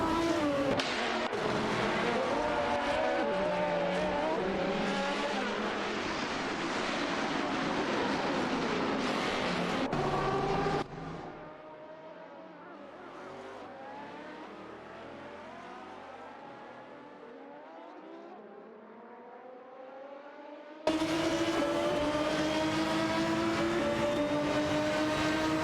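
Race cars in a video game race, including a Ford GT, roar past in loud, sustained engine howls with shifting pitch. The sound drops to a quieter, distant drone midway, then surges back to full volume.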